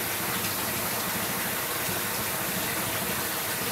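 Water and slurry gush steadily from the bottom of a vapor blasting cyclone, a loud continuous rushing wash of liquid with no pauses.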